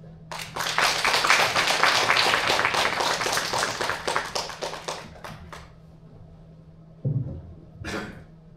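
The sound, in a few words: audience applause welcoming a perfumer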